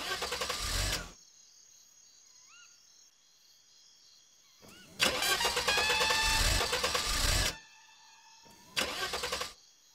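A car engine cranks in loud bursts as the key is turned, stopping and starting again several times with quiet gaps between, close up.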